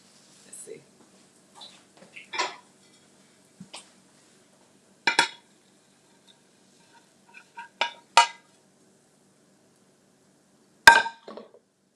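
Dishes and cutlery clink while a mushroom omelet is plated in a kitchen cooking demo, with sparse, sharp scrapes and clinks scattered through otherwise quiet moments.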